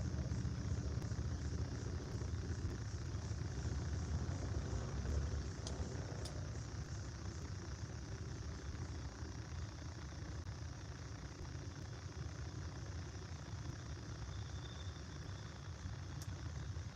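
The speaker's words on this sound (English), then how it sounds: "Wonder if you can hear all the motorcycles outside." A steady, fairly faint rumble of engines outside during the Sturgis motorcycle rally, droning on continuously with no distinct passes and no talk.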